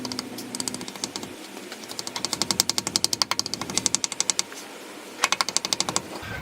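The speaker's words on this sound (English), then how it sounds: "Give my new O-ring, my new seal, and the hammer." Rapid series of metallic hammer taps driving a new rear main seal into place on a Mazda MX-5 Miata engine, close and loud, in quick rhythmic bursts with short pauses between.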